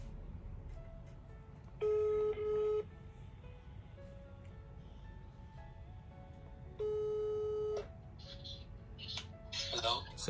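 A phone call is placed, with two long ringback tones heard through a handset, each lasting about a second, separated by a pause and over quiet room noise. A voice speaks briefly at the end.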